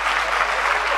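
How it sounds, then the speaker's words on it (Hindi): Loud, sustained applause from a mushaira audience fills the hall, a dense unbroken wash of clapping with no gaps. "एक बार जोरदार तालियों से मुझे हौसला दें"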